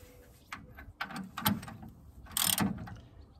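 Tightening of the diesel hand pump on a Citroën C25 van: a few close ratcheting clicks and metallic turns in irregular bursts, the loudest near the end, with no talk.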